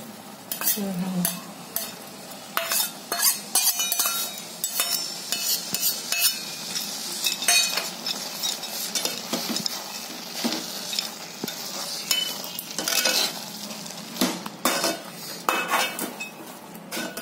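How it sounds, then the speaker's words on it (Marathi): Cardamom and dry fruits frying in a pan for beetroot halwa, with a steady sizzle under repeated clanking and scraping of a metal spoon, close and continuous with no talk. "वेलची आणि हे ड्रायफ्रूट सगळे आता असे मी फ्राय केले ना"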